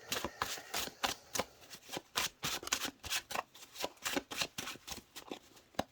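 Tarot cards are shuffled in a steady run of crisp riffling flicks, close and fairly quiet, with no talking.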